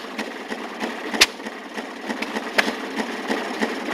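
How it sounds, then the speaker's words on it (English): A small gasoline engine powers an old Maytag washing machine and chugs along at idle. It makes a rapid, uneven train of sharp mechanical ticks and knocks, close and moderately loud, with no voices. "that's the first gas-operated washing machine I've ever seen"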